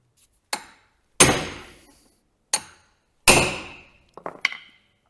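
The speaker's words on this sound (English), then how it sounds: "I'll just keep hammering away till it comes off" A hammer strikes the front axle kingpin of a Massey Ferguson tractor in separate heavy, ringing metal blows, each dying away. A quick cluster of lighter taps follows.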